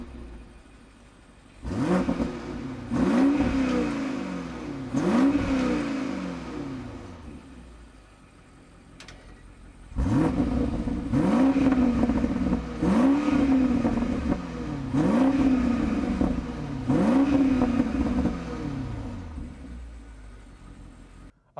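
A BMW Alpina XB7 SUV drives on the road, with its engine repeatedly revving and easing off in rising, sweeping pulls, a pause near the middle, then several more accelerations, all close and fairly loud.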